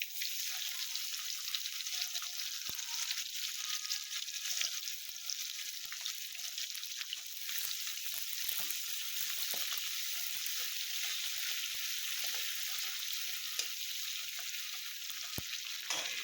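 Onions sizzle steadily in hot oil in a pan with a dried red chilli, the base for an Assamese fish curry with sesame seeds; a close, even frying hiss runs throughout with no voices.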